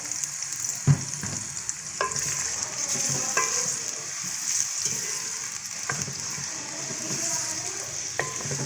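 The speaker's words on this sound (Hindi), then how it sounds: "तो मेरा तेल हो गया गरम। अब मैं इसमें डालूँगी प्याज, और मैं इसको गोल्डन ब्राउन करूँगी" Sliced onions frying in hot oil in a home kitchen for chicken korma, a steady bright sizzle with occasional scraping stirs and clinks of a utensil against the pan.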